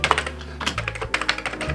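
Keys pressed on a worn Amiga 500 keyboard, a quick run of close, crisp clicks and clacks in an uneven typing rhythm over a low background hum, with no voices.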